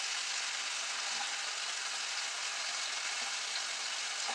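Cabbage cooks down in a pan with a continuous, even sizzling hiss at steady volume throughout, close by and with no talking.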